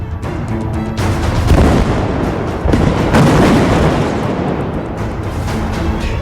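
A large explosion at an oil refinery in Tehran during US-Israeli bombing, heard as a sustained, loud, roaring rumble of blasts and booms with no speech, swelling near the middle before settling into a dense continuous roar.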